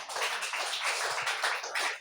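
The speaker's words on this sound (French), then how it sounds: "Applaudissez pour elle." Audience applause fills a hall for a woman who answered about a Bible verse, a steady dense patter of clapping with no pauses throughout.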